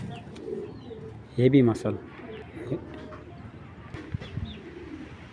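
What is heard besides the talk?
racing pigeons cooing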